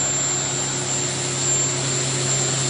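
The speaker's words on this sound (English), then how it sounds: "I'm gonna speed up the spindle here." High steady whine of an Akira Seiki Performa V4 CNC vertical machining center spindle running at speed, a loud even tone with a broad airy hiss and no talking.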